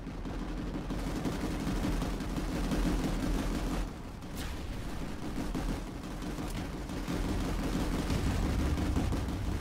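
Video game gunfire rumbles continuously as a squad keeps shooting at a wall, a dense, muffled barrage of shots and low booms that holds steady throughout.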